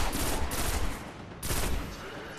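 Two heavy bursts of rapid gunfire blast out in Destiny as enemies are shot, each loud and close, separated by a short pause.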